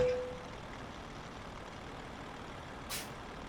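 Truck engine idles steadily in Euro Truck Simulator 2 as the rig hitches to a low trailer, with a short hiss of air near the end.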